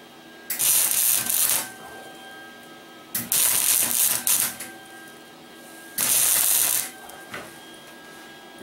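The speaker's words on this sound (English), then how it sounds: "Small circle, so it's gonna weld" Steel is welded on a BBQ smoker build, heard as three bursts of loud crackling, hissing arc noise, each lasting about a second, separated by quieter gaps.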